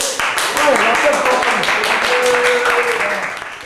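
Audience applause at a gathering, dense clapping rising under a loud voice speaking over it, steady and close throughout.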